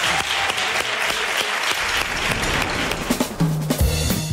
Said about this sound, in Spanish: Un aplauso, por favor, para los Super Mini Héroes.